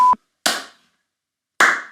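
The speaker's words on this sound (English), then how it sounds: "Just one clap." Sharp hand claps in a podcast room: a brief electronic beep, then two separate crisp slaps with short ringing tails, close and loud, with silence between them.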